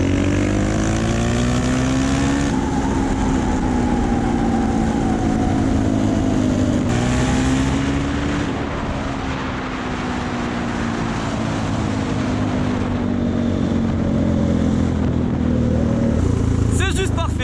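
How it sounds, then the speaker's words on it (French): A Suzuki DRZ motorcycle engine with a recently repaired motor is held at full throttle, its loud, continuous roar rising in pitch and then easing off as the throttle is released, recorded close up. "Je vais la tirer à fond et lâcher les gaz entièrement et voir si ça pétarade ou pas"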